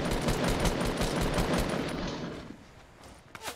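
Rapid bursts of gunfire from Fortnite rattle densely for about two seconds, then fade into quieter background with a couple of faint pops near the end.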